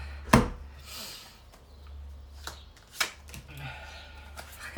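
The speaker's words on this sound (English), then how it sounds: "Okay, we're going to go with one more shuffle." Cards being shuffled and riffled nearby, a few quick crisp flutters and taps separated by quieter pauses.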